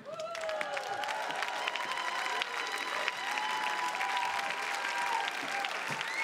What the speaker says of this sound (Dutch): mag ik een daverend applaus voor Miss Lynn Zeweda